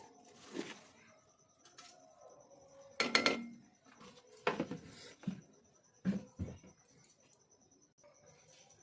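Sugar going into a cooking pot, with several short, distinct scraping clinks of a spoon against the vessel in separate bursts, close by, amid a quiet room.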